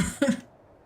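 A short, throaty cough or throat-clearing from a single person, sitting close and fairly clear, then fading into quiet room tone.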